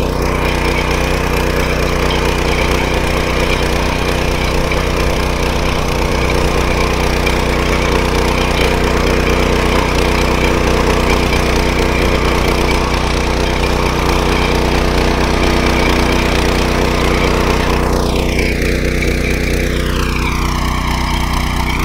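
A Dfarm mini power weeder runs in a field with a steady, loud engine drone throughout, and a brief whining sweep comes near the end.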